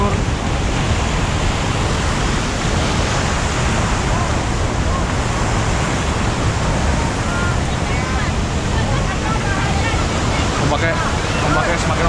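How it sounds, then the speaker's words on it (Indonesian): Large ocean waves crash and roll onto the shore at Karang Hayu, a loud, unbroken roar of surf and wind buffeting the microphone with no break. "Ombaknya sangat besar sekali pemirsa."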